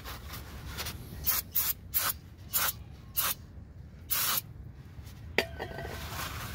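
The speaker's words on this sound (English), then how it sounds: "brake parts cleaner. Oh yeah. I want these shoes nice and clean." Brake parts cleaner sprayed onto rear drum brake shoes of a Jeep ZJ, several short hissing bursts of varying length close up over a quiet background, no talking.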